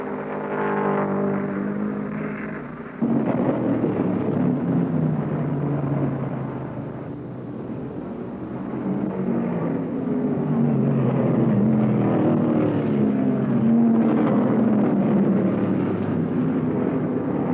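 1971 USAC stock cars, including a Dodge Charger, racing a 200-lap event at Wisconsin International Raceway: a continuous loud engine roar rising and swelling as cars pass, with a steady droning field of motors throughout.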